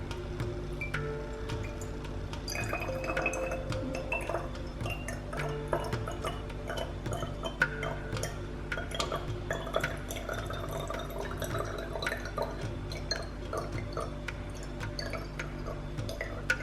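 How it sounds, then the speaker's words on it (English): Colloidal silver water being poured carefully into a funnel, a steady trickle with scattered drips and small glassy splashes running throughout, close and fairly quiet. "I'm going to have to carefully try and pour it in there."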